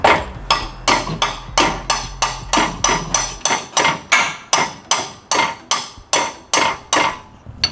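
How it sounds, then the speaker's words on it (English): A hammer strikes metal on a car in a junkyard again and again in a steady rhythm, about two ringing clanks per second, loud and close, with a low hum fading early on. "Hit it with the hammer, bro."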